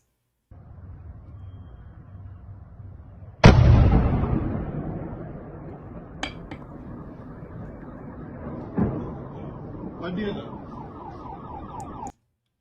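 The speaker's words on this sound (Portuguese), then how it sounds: "foi só um clarão e a explosão, que é justamente a hora que o míssil atingiu o prédio lá em Dnipro" A missile strike hits a building in Dnipro: a low, wailing background drone breaks into a sudden, massive blast that rolls into a long rumbling decay, followed by a few smaller cracks and thuds at a distance.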